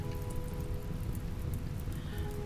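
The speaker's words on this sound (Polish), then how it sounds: "Na całe szczęście pada deszcz." Steady rain falls in the Rimworld video game during a fire, a continuous even hiss of rainfall with a low rumbling bed and faint tonal game sounds, no voices.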